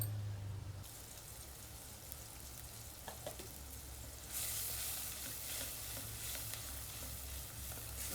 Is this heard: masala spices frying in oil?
yes